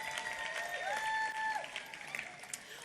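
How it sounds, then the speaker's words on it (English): Applause rolls through the hall at the 42nd Botswana Sport Awards ceremony, a fairly faint, steady wash of clapping from a large crowd, with a few shouts rising over it. "One more round of applause, ladies and gentlemen."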